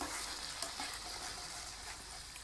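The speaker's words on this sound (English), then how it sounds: "I'm using a frying pan" A Chinese-inspired stir fry mix sizzles and crackles steadily in a frying pan, a continuous dense hiss of frying food without speech.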